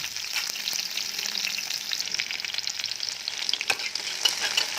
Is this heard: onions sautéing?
yes